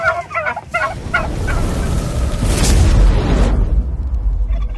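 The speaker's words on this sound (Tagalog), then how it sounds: "ito yung ibang mga malalaki kong pabo." A rapid burst of loud gobbling from giant turkeys opens, then gives way to a heavy rushing, blustery noise, with faint gobbles returning at the end.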